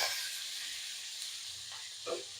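Banana flower going into a pan of whole garam masala spices frying in oil, giving a steady broadband sizzle with a brief louder hiss near the end as the pieces hit the hot oil.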